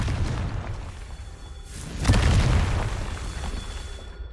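A Confringo spell blast in Hogwarts Legacy erupts as a single loud boom with a rushing whoosh, rising out of a low rumbling game soundscape and trailing off into a sustained roar.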